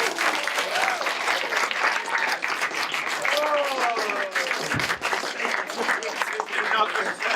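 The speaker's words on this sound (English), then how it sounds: "You're applauded." Audience applause closes a performance of a banned droll play, a steady, dense wash of clapping from a crowd that holds for the whole stretch, with some cheering or voices mixed in.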